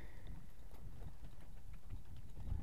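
Hooves of a ridden horse clip-clop in a steady, close walking rhythm, a continuous series of muffled thuds with faint outdoor background noise.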